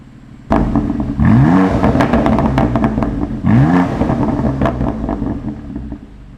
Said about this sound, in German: Ich liebe diesen Klang meiner Abgasanlage